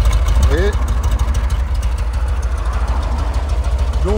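A cold 1977 VW Combi T2b Deluxe engine runs just after starting, breathing through a double T-Bird exhaust with a steady loud rumble and uneven idle, while people talk over it nearby.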